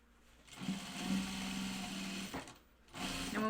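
A sewing machine back stitches fabric for a Chicken Boots Wallaby pattern, running in a steady whirring burst, pausing briefly, then starting up again, close and fairly quiet.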